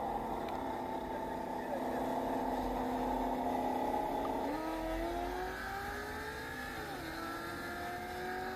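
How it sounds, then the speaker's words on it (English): A 2003 Ford Mustang fitted with a big turbo accelerates in a racing game, its engine tone climbing steadily with a gear-change dip midway, loud and continuous behind faint background talk. "VS Mustang 2003 with a big turbo, damn, nobody can go against"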